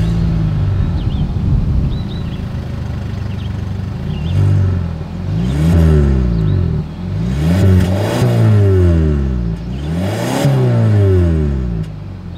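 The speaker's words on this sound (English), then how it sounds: "As always, here is that exhaust clip." Exhaust of a 2025 Kia K5 sedan revved repeatedly outdoors: after a steady idle, four sharp throttle blips rise and fall in pitch, each climbing to a loud roar then dropping back, heard up close with no talking.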